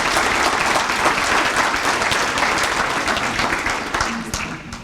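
A crowd at a chamber of commerce awards celebration applauds loudly and continuously, a thick wash of clapping that tapers slightly toward the end, with some voices mixed in.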